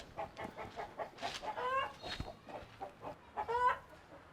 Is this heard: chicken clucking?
yes